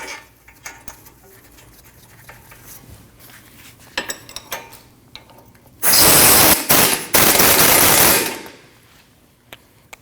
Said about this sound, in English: Now you can install your nut and bolt.